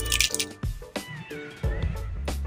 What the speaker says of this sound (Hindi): अब इसमें हम शामिल करेंगे टमाटर,